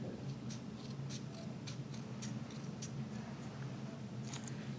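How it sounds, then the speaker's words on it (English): Scissors snipping tape to secure a neonatal endotracheal tube, producing a series of short, crisp clicks at a quick, uneven pace against a soft steady background hiss. "And then you want to come up halfway and cut to the fold."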